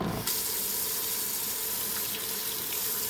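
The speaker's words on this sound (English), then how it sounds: "If you don't wash out the brush" Running tap water pouring into a sink while a brush is rinsed out beneath it, a steady close hiss and splash that begins abruptly and continues throughout.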